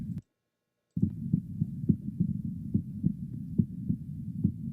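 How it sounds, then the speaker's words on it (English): Recorded heartbeat for meditation, a steady low double thump repeating about every half second after a brief silent gap, close and even with a soft hum beneath. "heartbeats can also be really great in meditations"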